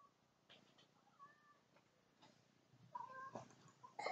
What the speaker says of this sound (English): Guys, I have my cat here.